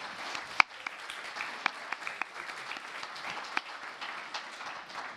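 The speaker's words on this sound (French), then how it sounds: "Donc vous pouvez les applaudir aussi, hein, ceux qui viennent d'arriver là." Conference audience applauding in a hall at an aviation and airport infrastructure event, a steady mid-level patter of many hands with a few sharper individual claps standing out.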